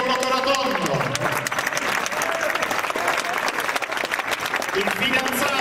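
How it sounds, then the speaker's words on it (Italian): An audience applauds as the actors are welcomed on stage for the show, with loud, dense clapping running steadily throughout and a voice speaking over it. "li accogliamo con un grande applauso"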